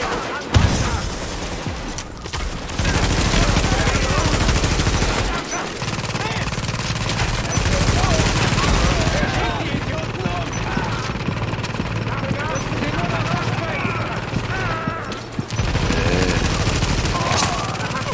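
Rapid bursts of automatic gunfire and fusillades in Tom Clancy's The Division, loud and sustained through most of the stretch, with brief pauses, while players talk over the shooting.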